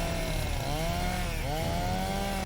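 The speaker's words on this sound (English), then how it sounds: "A rusty chainsaw." A rusty chainsaw runs loud and close, a harsh continuous buzz with the engine pitch rising and dipping in two quick swells.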